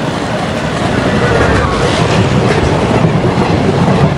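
A train in the video game Train Sim India rushes past a station in a loud, steady roar, with rattling clickety-clack from the wagons filling the whole stretch.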